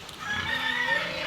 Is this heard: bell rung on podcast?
no